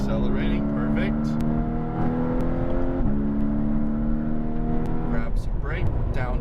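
Race car accelerating on a Las Vegas track, with a loud in-cabin engine note whose steady harmonic drone climbs in pitch as it gains speed, and a voice speaking over it.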